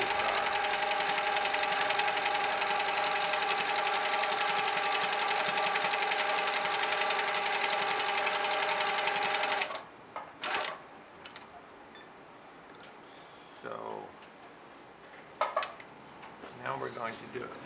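A sewing machine runs fast and steady while free motion quilting a continuous line, a loud close mechanical whir for about ten seconds, then stops, leaving scattered clicks and handling noises.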